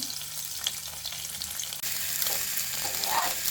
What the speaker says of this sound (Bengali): আমি এখন ডিমের কিউবগুলোকে ভাজার জন্য প্যানে তেল দিয়ে দিচ্ছি